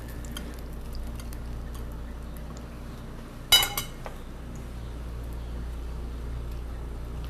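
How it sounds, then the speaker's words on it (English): Golden crispy salmon set down onto a plate, a single short clink of plate and utensil standing out against a quiet kitchen background. "We're going to take our golden crispy salmon, put our salmon onto the plate there."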